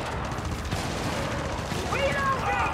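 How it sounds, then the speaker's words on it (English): Dense video game gunfire crackles in rapid bursts of shots at mid distance, and a voice talks briefly near the end. "Bullets are coming in."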